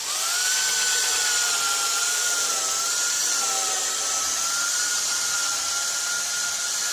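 A spinning power sander grinds against a cloudy car headlight, a loud, close, continuous high whine with small shifts in pitch as the pressure changes, with no talk.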